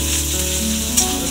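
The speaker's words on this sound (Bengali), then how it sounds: "আপনারা দেখতে পাচ্ছেন এখন এটা ভাজা হচ্ছে" Ginger paste fries in a pan with a loud, continuous sizzle that holds steady throughout, with one brief sharper crackle near the end.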